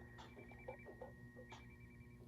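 A phone ringtone, triggered by a smartwatch find-phone feature, chimes softly in a repeating electronic pattern, somewhat distant and low in volume.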